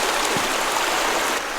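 A clear stream runs over rocks in a swampy area near old coal mines, a steady, close rush of water with no talk, filling the short moment evenly.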